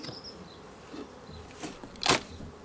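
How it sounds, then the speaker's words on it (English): Angry honeybees swarm around an opened hive with a smoker going, their faint, steady buzz rising into a louder close pass near the microphone at the end; no one speaks. "God, it's jam packed with bees"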